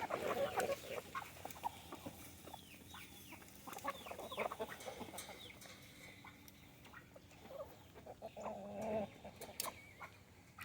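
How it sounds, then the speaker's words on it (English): A flock of chickens clucks and calls as they are let out of their coop in the morning, scattered soft clucks and short squawks at moderate distance, faint and continuous with a few louder bursts. "We are going to let the chickens out."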